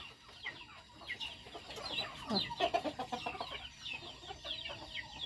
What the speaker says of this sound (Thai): เนี่ยไก่เขากะขึ้นนอนแล้ว